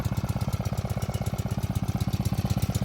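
A Honda GX80 small engine drives an orchard sprayer in an apple orchard, chugging steadily at idle with a fast, even pulsing beat, close and moderately loud throughout.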